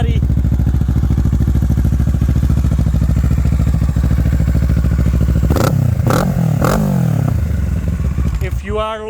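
A 2023 Kawasaki Ninja 650 with stock exhaust idles loudly and steadily up close, then three sharp throttle blips rev the engine before it settles again.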